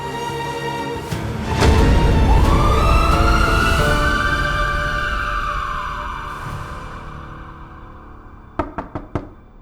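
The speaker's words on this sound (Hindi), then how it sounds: "जल्दी करो, एम्बुलेंस चलाओ।" An ambulance siren rises into one long wail and fades away, followed by several sharp knocks in quick succession.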